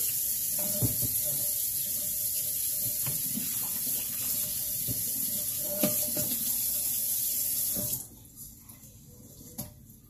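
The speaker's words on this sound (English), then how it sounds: "Rinse it off, cold water." Running cold tap water splashes and rubs against meat being rinsed in a sink, with a few knocks, then the flow stops near the end.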